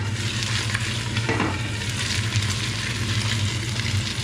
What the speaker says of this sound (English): So the oil is hot enough, put it in a nice hot oil.